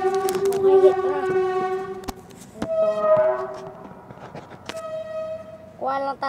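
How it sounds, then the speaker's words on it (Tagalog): A passing train in a survival video game sounds several long, tonal horn blasts over a rolling rail rumble, loud and close, rising and falling across the passage. "May tren."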